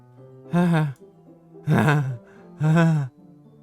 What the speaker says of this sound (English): A sharp inhale, like someone sucking the air through the teeth.